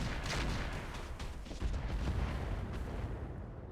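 Artillery fire and an AC-20 ammo explosion in the mech combat game RogueTech come through as dense, rumbling booms and crackling blasts that blend into a continuous, moderately quiet roar.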